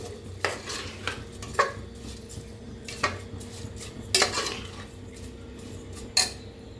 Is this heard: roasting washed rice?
yes